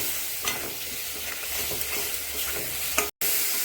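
Spice paste of chilli, turmeric and coriander-cumin powders soaked in water fries in a pan for a pangas fish curry, a steady close sizzle with soft stirring scrapes throughout and a brief dropout near the end.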